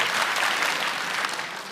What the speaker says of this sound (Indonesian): boleh tepuk tangan dulu buat kita semua.